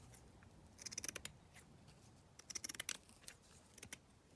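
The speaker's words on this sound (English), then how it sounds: "So, just cut that down." Scissors trim craft material up close: two quick clusters of crisp snipping cuts separated by a pause, with a single snip before and after, quiet and without speech.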